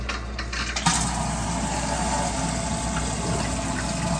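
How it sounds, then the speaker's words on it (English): Kitchen faucet running cold water after being turned on, a steady hissing rush of water that starts with a small click and then flows continuously at an even level. "we're gonna turn our faucet on for 15 seconds for cold water"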